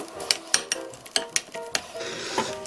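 A spoon clinks and scrapes against a bowl while mixing a Korean seasoning sauce of minced garlic, rice syrup, sesame seeds and sesame oil, a quick irregular series of close ringing taps followed by softer scraping.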